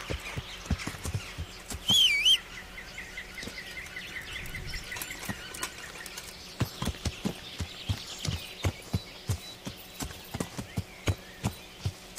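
Horse hooves clip-clop in Kingdom Come: Deliverance, starting loose and irregular, then settling into a steady, fairly close rhythmic trot through the second half, with faint birdsong in the background.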